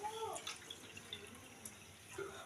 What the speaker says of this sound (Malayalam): അപ്പം നമ്മൾ കുറച്ച് വെള്ളം ഒഴിച്ചെടുക്കാം